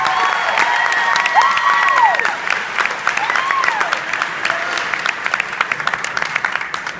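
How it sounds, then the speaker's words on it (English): Large school crowd applauding the two student council sponsors at Westmoore, loud sustained clapping with cheers and whoops over it, gradually thinning into scattered individual claps. "Can I please get a big round of applause for my two student council sponsors?"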